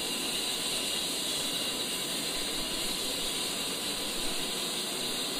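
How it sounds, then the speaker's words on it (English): A-10C jet engine spooling up during startup in the DCS World flight simulator, a steady hissing whine and rushing air, constant and fairly loud, alone without talk. "As the engine spools up"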